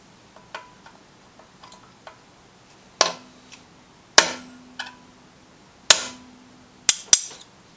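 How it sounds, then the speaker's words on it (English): A few light taps, then several sharp metallic hammer strikes on a punch driving a governor gear pin out of a Coleman BT200X minibike engine, each ringing briefly, spaced about a second apart, close and clear. "grab a punch and a hammer and punch this pin out"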